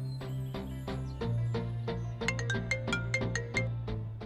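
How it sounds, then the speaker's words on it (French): A phone ringtone plays a bright, melodic electronic tune, repeating notes rising and falling in a steady rhythm, clear and close with no voices over it. "Décroche ton téléphone"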